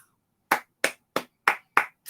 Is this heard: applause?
yes